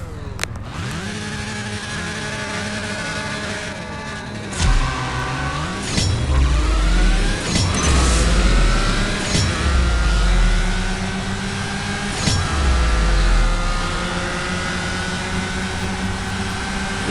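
A Nissan GTR engine in the racing game CSR Racing 2 revs loudly through a run of rising gear sweeps, each climb cut by a sharp shift, aggressive and continuous with no talking.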